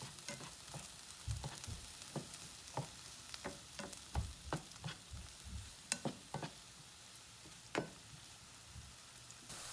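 Avocado oil heating in a pan for a vegan soybean paste noodle dish, giving steady faint frying hiss with many sharp crackles and pops scattered across it, without talk.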